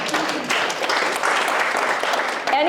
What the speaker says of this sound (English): Round of applause for this group.